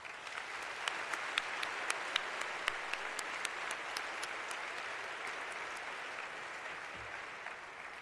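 Guests at an MLK celebration luncheon applaud, a soft, fairly distant roll of clapping with a few sharper individual claps near the start.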